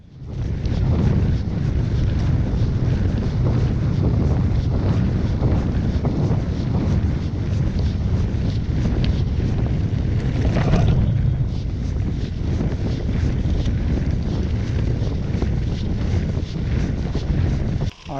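A carbon Niner RLT9 RDO gravel bike rides over gravel, captured from a chest-mounted camera: continuous loud wind rush over the mic with low rumbling tire and road noise throughout.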